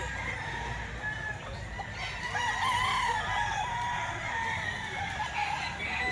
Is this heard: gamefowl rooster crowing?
yes